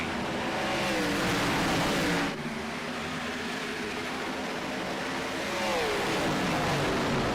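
Loud racing engines roar and accelerate on the Darlington Raceway oval as racing resumes under green flag, the sound swelling, dipping briefly, then building again as cars pass.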